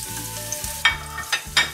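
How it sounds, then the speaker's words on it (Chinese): Pickled cabbage stir-fried with ginger slices and scallion in a little oil in a wok gives a quiet sizzle, punctuated by three sharp scraping stirs of the spatula. "我们就开始炒酸菜了啊"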